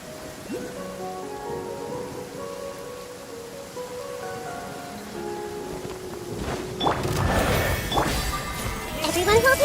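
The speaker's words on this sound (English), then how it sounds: "This heavy rain must be quite an inconvenience for you." Heavy rain in Genshin Impact swells from a soft patter into a dense, crackling downpour over the last few seconds, while a character voice speaks earlier in the scene.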